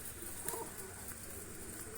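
Pigeons, birds being dyed and readied for flying, give a soft coo at close range over a steady background hiss, with no voices present.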